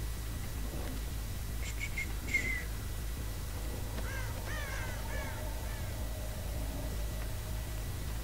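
Crows cawing in the Dead by Daylight horror video game, a short run of harsh repeated caws followed by a longer descending series, heard alone over a steady low game ambience with no talk.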